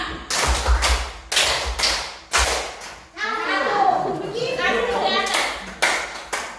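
Children doing the 'tepuk 5' clapping routine in a classroom, several sharp group claps and hand taps in rhythmic bursts, with kids' voices chanting between and over the claps.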